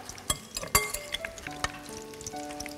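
Pieces of chicken coated in pistachio fry in moderately hot oil, giving a soft, steady sizzle with scattered crackles, pops and a few light clinks of a utensil against the pan, close by and without speech.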